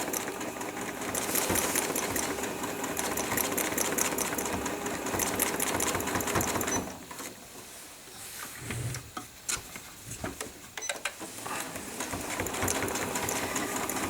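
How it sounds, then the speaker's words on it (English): A sewing machine runs at a steady speed with no foot pedal, stitching around the edge of a bleachwork piece in a fast, even mechanical whir. It pauses partway through, then restarts with short bursts before the steady run resumes. "I've got the machine at a nice steady speed, no foot"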